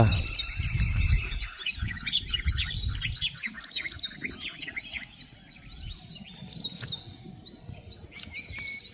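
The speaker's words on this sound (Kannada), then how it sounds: "ಪಕ್ಷಿಗಳ ಈ ಶಬ್ದ" In a forest, many birds chirp and tweet in a busy, overlapping chorus, with a low rustling rumble underneath.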